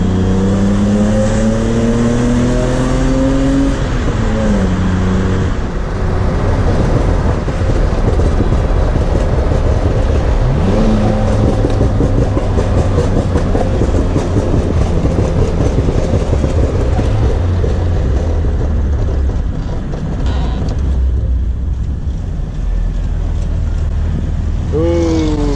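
M54-swapped BMW E30 accelerating hard in second gear on the road, a loud engine note rising steadily in pitch under heavy wind and road roar, then settling back before climbing again.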